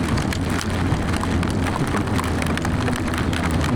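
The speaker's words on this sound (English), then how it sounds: "Oh, it's hailstones again." Hailstones drum hard on a motorcyclist's gear and bike during a ride, a dense, steady rattling hiss over low wind and engine rumble, continuous throughout with no voices.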